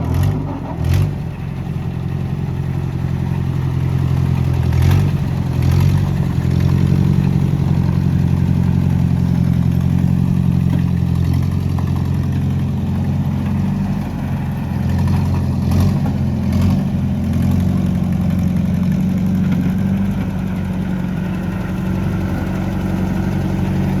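Oliver 504 swather being driven, its engine running steadily with a low, continuous rumble and slight throttle variation throughout, close and loud with no talk.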